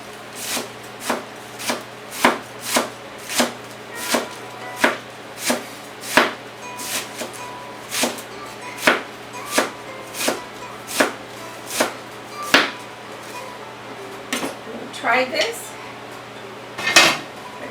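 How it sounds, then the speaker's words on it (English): Cabbage sliced with a knife on a board for Mexican posole topping: about eighteen crisp, evenly spaced chops in a steady rhythm, close and clear, with a brief pause and shuffling before a final cut. "my repollo, which is cabbage. Okay, so I'm going to slice that up"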